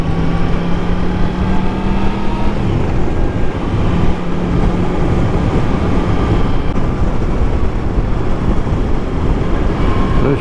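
A Yamaha MT-10 SP motorcycle rides along country roads in the Malvern Hills, its engine a steady, loud drone mixed with constant wind rush and road noise throughout.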